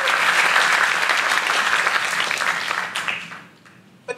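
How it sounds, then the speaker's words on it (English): Church congregation giving a big round of applause, loud sustained clapping that thins out and fades near the end, with a faint murmur of the crowd. "Would you give Tari a big round of applause?"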